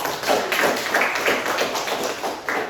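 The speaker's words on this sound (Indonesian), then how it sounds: "Mari kita tepuk tangan untuk." Classroom of students clapping hands together in a short burst of applause during an Indonesian religion lesson, dense overlapping claps at steady loudness with no talk.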